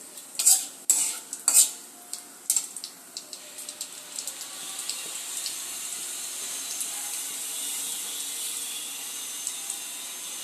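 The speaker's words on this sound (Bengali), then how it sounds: "লাল হলে করে রাখা মশলাটা দিয়ে দেবো তেলের মধ্যে" Spice paste dropped into hot oil for a chicken dish bursts into loud spattering pops at first, then settles into a fine, steady hissing sizzle with scattered crackles, close up and without talk.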